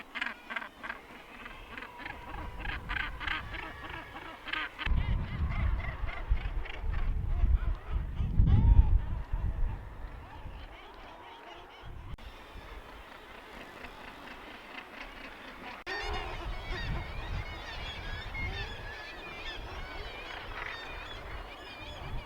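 Birds at a large island nature reserve give loud honking, goose-like calls that rise and fall over a steady low rumble of background noise, and the calls are heard on their own without talk.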